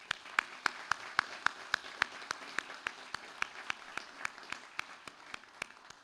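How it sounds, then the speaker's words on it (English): Slow, evenly spaced handclaps ring out at a university honors college graduation ceremony, each clap sharp and distinct over a soft wash of scattered audience applause. "please, students, let's give them a round of applause."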